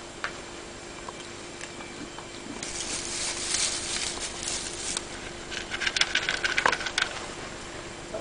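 A black orphan lamb near Fortingall, Perthshire eats pellets outdoors, with soft crunching and light clicking nibbles that build in the middle and toward the end over a quiet, hissy background.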